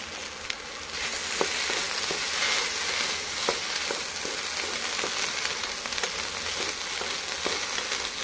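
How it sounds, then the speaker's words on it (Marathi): Okra dry-roasting in a hot kadhai on a gas stove gives a steady, close sizzle with scattered small pops and crackles, heard alone without any talk. "भेंडी छान भाजायची।"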